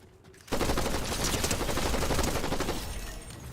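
Sustained burst of gunfire in the Fortnite video game, a loud dense rattle that starts abruptly and holds steady for several seconds, with no talk over it.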